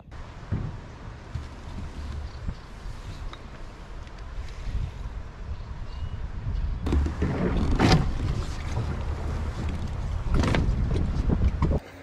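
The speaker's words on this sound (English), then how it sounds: "it's a bit windy out here" Wind gusts roar over an East Tennessee river during kayak fishing, with heavy rumbling buffeting against the microphone that swells stronger partway through and stays loud and close, with no speech.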